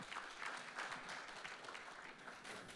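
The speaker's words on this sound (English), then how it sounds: "Welcome in with a clap, please." Faint, steady applause from a conference audience at a regional integration launch event, a dense even patter of many hands heard from a distance.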